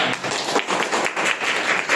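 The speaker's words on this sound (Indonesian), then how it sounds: "Tepuk tangan buat kita semua." A classroom group claps together, a dense, lively burst of hand claps that holds steady for a couple of seconds, fairly loud and close.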